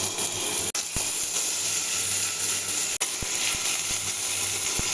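Ginger, garlic and green chili frying in hot oil make a continuous hissing sizzle, with two sharp clicks and a few faint taps over a low steady hum.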